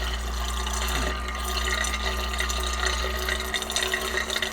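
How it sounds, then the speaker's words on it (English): A DIY stir plate spins liquid hard into a deep vortex, with steady, close churning and gushing plus a constant low motor hum underneath. "it's literally pulling air down through the funnel and blowing it all over the liquid"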